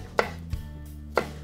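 A knife chops through tomato chunks on a cutting board, three distinct sharp taps spaced apart with quiet between them.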